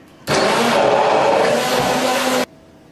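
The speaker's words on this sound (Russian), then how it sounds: "И нам понадобится ручной блендер." A hand blender whirs loudly as it purees hot cherries for a chocolate cake filling. It makes one continuous burst of about two seconds with abrupt starts and stops, and no one talks.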